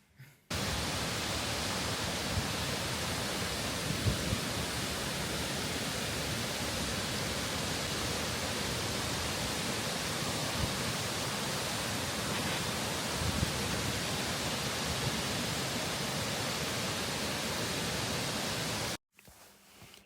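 A waterfall in Bosnia roars as a steady, unbroken wash of rushing water, even and constant throughout before cutting off at the end, with no voices.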